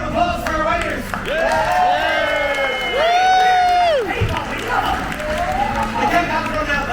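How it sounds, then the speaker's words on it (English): A crowd on a cruise ship's race track deck cheers and claps for the riders, with whooping voices, scattered clapping and loud talking mixed together, rising to a peak midway then settling into chatter. "Can we get a huge round of applause for our riders?"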